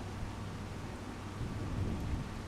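Steady, dense rain hiss with low rolling thunder from a weather event in the Farming Simulator 25 farming game, continuous and fairly loud without any talk.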